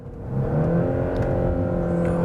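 A Genesis G90 3.5 turbo's active sound generator in sport mode produces a synthesized engine rumble that swells and holds steady, a smooth revving drone with some whirring, close and fairly loud, no voices.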